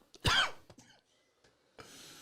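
A single sharp, close cough bursts out, followed by a few quiet throat sounds and breaths in an otherwise hushed indoor setting.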